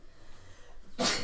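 A single sharp sneeze bursts out near the end after a quiet stretch of room noise, loud and close.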